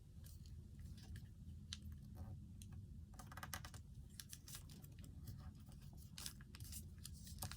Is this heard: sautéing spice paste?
no